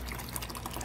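Water pours steadily into the sump tank of a DIY flood-and-drain hydroponics system, a close, continuous splashing and trickling with no voices.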